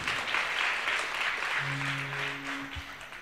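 Steady applause from a group of children at a devotional class, sustained clapping at a moderate level with a brief low hum partway through.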